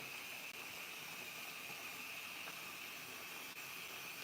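A hair steamer gives off a soft, even hiss of steam that runs unbroken and faint throughout, with no voices.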